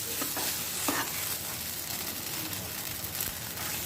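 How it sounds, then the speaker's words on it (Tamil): Rava kesari with ghee, raisins and cashews being stirred in a pan over a low flame, giving a continuous soft scraping and sizzling that stays steady and close throughout. "ஒரு 2 நிமிஷம் சிம்லேயே வச்சு கேசரியை நம்ம கிண்டி விட்டுக்கலாம்."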